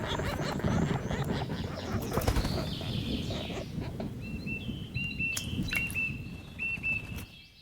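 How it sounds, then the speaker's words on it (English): Nuthatch parents feeding their young in a forest give a run of short, high, repeated calls, fairly close, over steady rustling and flapping in the second half. "Nuthatch parents fly back and forth, bringing food to their young at intervals of just 1 minute."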